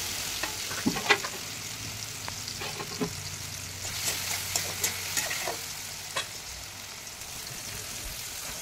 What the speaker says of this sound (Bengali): টমেটোটাও ভাজছে।